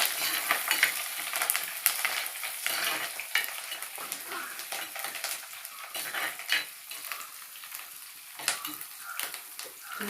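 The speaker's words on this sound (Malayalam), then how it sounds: "ഇനി അതൊന്ന് ചെറിയ ഇളക്കുവാണ്" Ginger and curry leaves frying in a pan for a Kerala fish head curry, stirred with a utensil, producing a soft crackling sizzle with repeated scraping strokes, fairly quiet and close, with nobody talking.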